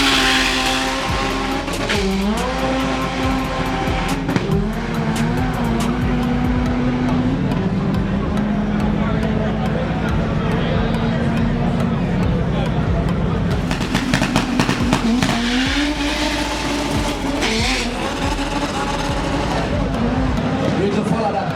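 Race cars at a drag racing elimination event, engines roaring loudly and continuously with pitch sweeps as cars launch and pass, under a steady crowd and commentator din.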